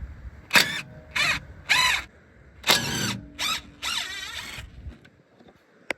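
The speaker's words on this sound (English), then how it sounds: "I'm just going to take a H7 to the slide pins and just whiz them out." A power tool fitted with an H7 bit whirs in about six short, sharp bursts of rising whine as it spins out the front brake caliper slide pins on a 2018 Ford Kuga, loud and close with brief quiet gaps between.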